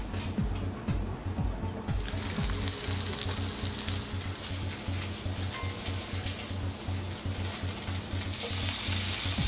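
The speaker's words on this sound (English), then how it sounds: "Now while the burgers are cooking," Crumb-coated mini burger patties for Indian-inspired sliders sizzle steadily in a hot pan, a continuous crackling hiss with a faint low hum beneath, close by and with no talking.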